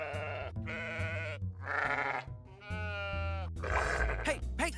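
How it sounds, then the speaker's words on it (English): Sheep bleating in a cartoon scene, a run of loud, close, wavering bleats in several long overlapping calls, some low and some higher, with no talk over them. "Hey, stop threatening my sheep."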